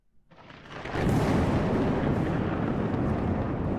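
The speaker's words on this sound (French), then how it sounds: "La foudre." Lightning and thunder sound effect from Roll20: a short low rumble then a sudden loud crack swelling into a heavy, sustained roaring boom that rolls on and fades only slightly.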